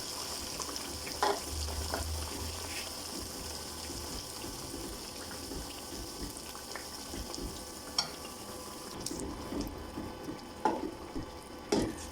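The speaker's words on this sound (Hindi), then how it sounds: "आपने हल्की आंच पे इसको भूनना है और चम्मच को आपने चलाते रहना है।" Chana dal roasting in ghee over low heat while a spoon keeps stirring it, heard as a soft continuous sizzle with irregular scrapes and light knocks against the pot, close by and without voices.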